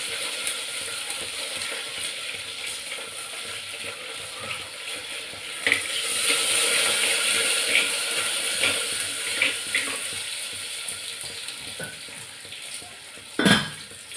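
Mustard seeds splutter in hot oil with a steady crackling hiss, then onions and curry leaves go into the pan and set off louder sizzling with sharp clinks, close by and without speech.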